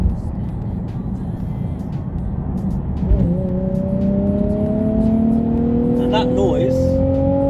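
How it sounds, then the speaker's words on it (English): Nissan 370Z with a 3.7 litre V6 and short tail exhaust, heard from inside the cabin: a low steady drone, then after a downshift the engine note rises smoothly and climbs in pitch as revs build, with someone talking over it. "if I just drop a cog in a minute"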